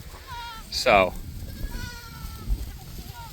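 Goats and sheep bleat on pasture, one clear loud bleat rising near the start and fainter calls following, under someone talking outdoors.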